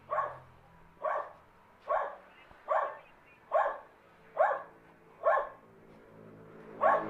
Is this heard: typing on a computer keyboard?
no